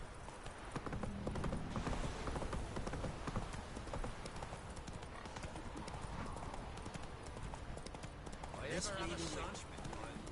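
Roach, the horse in The Witcher 3, gallops with a fast, steady clip-clop of hooves amid game ambience, as a voice talks over the running and a brief whinny rises near the end.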